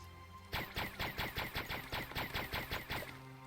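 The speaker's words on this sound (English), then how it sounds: "Man, wow, this gun's actually pretty good if you hit straight on." Gun firing in the space sandbox game Starbound: about fifteen sharp, evenly spaced shots in a rapid steady burst, loud and close, with no other sound between them.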